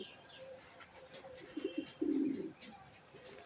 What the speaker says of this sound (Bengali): কোথায় গেল কবুতর?